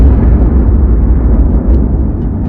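A deep, roaring explosion effect stands for the birth of the Sun, a dense low rumble that holds steady and loud for the whole stretch with no voices over it.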